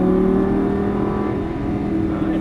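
A Lamborghini Gallardo LP550-2 engine pulls hard at full throttle on a track with cones, a steady loud drone that climbs slowly in pitch and runs without a break throughout.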